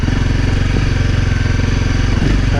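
A Honda CRF250L dirt bike chugs along a leafy, rocky off-road trail in first gear, its engine a steady, close, pulsing thrum with no pause and no speech.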